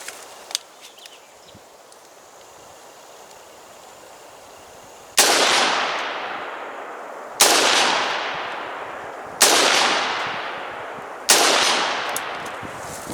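Four sharp, loud rifle shots from a budget-build AR upper firing Red Army Standard steel-case .223 at a steel target 100 yards away, each with a long decaying echo, after several seconds of quiet outdoor ambience with faint small knocks.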